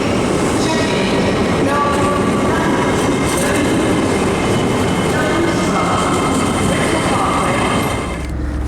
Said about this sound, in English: That's a bit of British rail magnificence. There's my train.